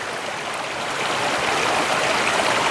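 Spring water runs steadily along a mountain trail, a close, loud, continuous rushing and gurgling of a stream with no voices.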